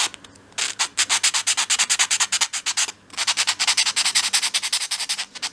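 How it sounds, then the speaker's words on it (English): Fine 500-grit sandpaper rubs rapidly back and forth along the cut edge of a small wooden piece for a 1/12th-scale dolls house dressing table, making close, rhythmic scratchy strokes with a couple of brief pauses. "bring in a piece of 500 grade sandpaper"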